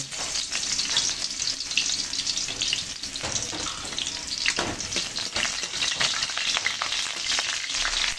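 Garlic fries in hot oil in a pan, giving a loud, steady crackling sizzle with scattered pops and stirring scrapes throughout, no voices.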